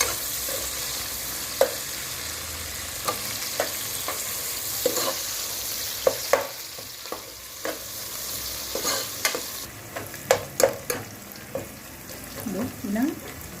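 Fish curry ingredients frying in a pan with a pinch of asafoetida, a steady sizzle punctuated by frequent spoon clinks and scrapes as they are stirred.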